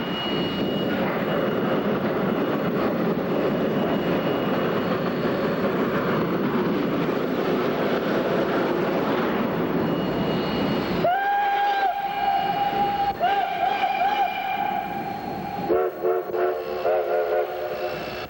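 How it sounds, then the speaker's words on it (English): Cumbres & Toltec rotary snow plow train ramming heavy ice-packed drifts, a loud, continuous roar of machinery and rolling cars, then several blasts of a steam whistle over the clatter. "Here, the OY runs into heavy ice-packed drifts."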